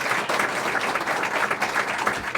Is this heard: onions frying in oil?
no